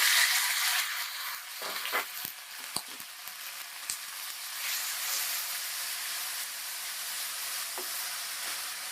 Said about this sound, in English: we'll cook these onions till they get a light golden color, till our onions are caramelized